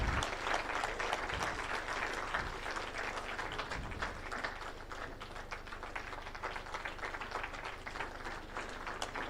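Steady crowd applause from an audience at a strategy launch event, a dense wash of many hands clapping that holds at an even level through the whole stretch, with no talk over it.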